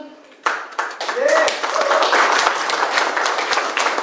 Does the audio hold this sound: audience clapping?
yes